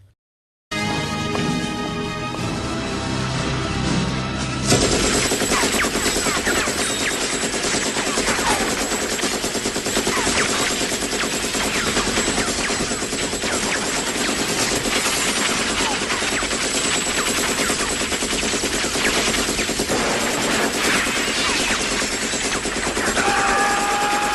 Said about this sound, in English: But Sly just fell in love with this M60 machine gun. So he used it whenever he could, and here's a bit of what it looked like.